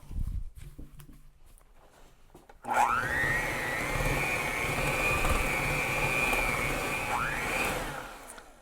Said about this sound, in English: Now let's get that mixed together.